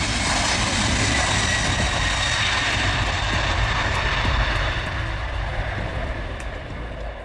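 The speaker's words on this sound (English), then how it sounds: "Boeing 767-400ER, the largest version of the 767 series." Engines of a Boeing 767-400ER airliner, the largest 767 version, roar in a loud, steady broadband drone that thins and fades slightly over the final seconds, with no voices present.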